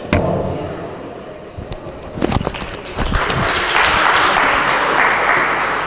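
A schools debate championship final audience breaks into applause for a speaker, starting with scattered sharp claps and thumps, then swelling into fuller, sustained clapping in the last few seconds.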